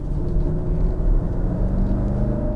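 A Mercedes-Maybach GLS with a V8, in dynamic mode on a public road, gives off a steady low rumble and road roar from inside the cabin, constant and fairly loud with no talking.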